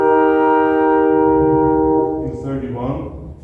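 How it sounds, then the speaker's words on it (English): A sustained major triad in 31-tone equal tuning rings steadily as a chord of stacked tones, then blurs into a shifting, softer texture near the end; the pitch content is clear, though exact tuning cannot be confirmed. "So you can listen to the major triad"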